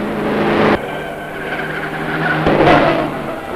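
Graham Hill's BRM racing car, number 8, roars past at a 1962 Grand Prix, loud and close. A sharp cut in the engine note is followed by a rising, swelling roar.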